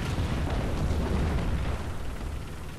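T-34-85 tank in War Thunder taking a shell hit, a loud close explosive boom with a broad rumbling blast that decays over a couple of seconds.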